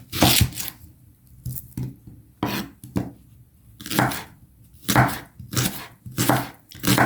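Knife chopping onions on a cutting board in a home kitchen, a series of sharp, close, irregular chops with brief pauses between bursts.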